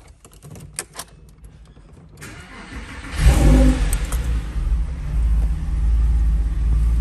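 After a few quiet clicks, a 2007 Porsche 911 Carrera 4S 3.8-litre engine fires up loudly and revs, settling into a deep, steady rumble.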